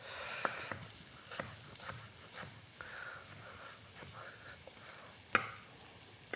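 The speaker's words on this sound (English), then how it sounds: "Here's the pancetta going in" Pancetta sizzling in a pan with vegetables, a soft steady frying hiss broken by scattered crackles and pops.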